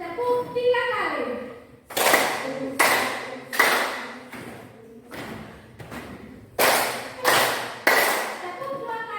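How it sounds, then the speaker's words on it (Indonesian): Teachers clap in unison during a group clapping exercise at an academic coaching session, giving loud, sharp sets of three evenly spaced claps, with an instructor's voice speaking just before the first set. "Tepuk 3 kali."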